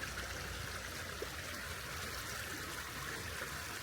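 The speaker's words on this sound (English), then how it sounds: "I love just sitting by a creek and taking in the fresh air." A creek flows beside a hiking trail in Boring, Oregon, a faint but continuous watery burble and trickle heard from close by, with no voices.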